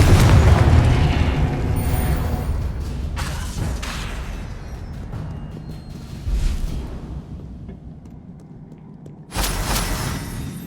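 Confringo fire-blast spells in the Hogwarts Legacy video game: deep rumbling booms and bursts during combat, loud at first then tapering, with another sharp burst near the end, no talking.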